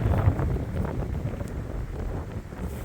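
Strong wind buffets the microphone in a cold, rainy October forest clearing, a continuous low rumbling roar with gusty swells and no talking.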